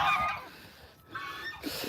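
A pet bird gives loud honking calls close up, one long call at the start and another toward the end, with a quieter pause between.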